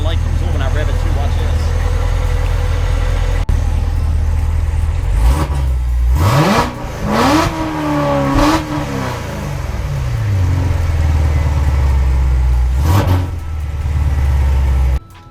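A C7 Corvette Z06 idles loudly, then is revved in several sharp rising and falling blips before settling back to a deep, rumbling idle.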